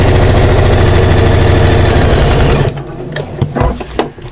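A sewing machine runs steadily at close range, stitching divider pockets for a fabric storage system with a dense rapid chatter, then stops about two-thirds through, leaving faint handling clicks and light rustling.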